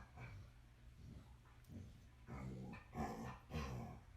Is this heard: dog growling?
yes